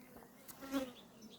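Honeybees buzzing at a calm hive: a soft, steady insect hum with a slightly louder swell partway through.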